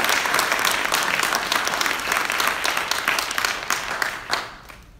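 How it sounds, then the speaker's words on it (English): A crowd applauds loudly and steadily, many hands clapping at once, before the clapping tapers off and fades near the end. "And can we give her another round of applause?"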